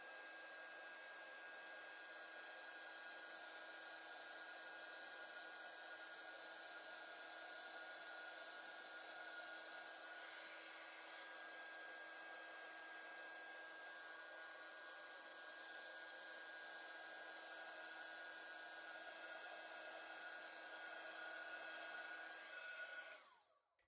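A heat gun blows hot air steadily for heat embossing ink, a continuous close whooshing whine with a steady tone that holds for about twenty seconds before cutting off abruptly at the end.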